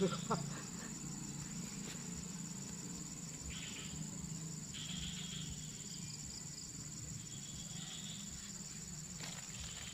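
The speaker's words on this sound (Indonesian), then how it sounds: "Aduh, jangkrik udah pada keluar." Steady cricket chirring fills the background throughout near a swamp fishing spot, a continuous high trill with a low rumble underneath and no distinct foreground sounds.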